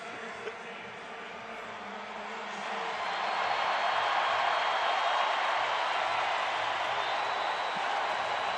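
Stadium crowd at a preseason football game: a broad, steady roar of many voices that swells after a few seconds and holds loud, with no clear speech above it.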